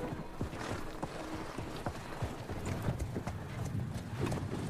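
Horse hooves clip-clop steadily as a horse pulls a stuck car in a war film, irregular close thuds over a rumbling background.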